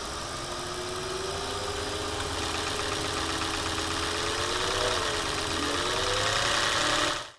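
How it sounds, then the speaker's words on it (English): The engine of a used 2002-2010 Audi A8 (D3/4E) idles and revs around 1000-1500 RPM with a rattle from worn or broken intake manifold flaps. It makes a loud, steady mechanical drone with a buzzy rattle and slowly rising pitch, and it cuts off at the end. "This rattle indicates excessive play or broken bits in the intake manifold flap mechanism"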